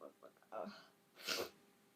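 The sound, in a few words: sneeze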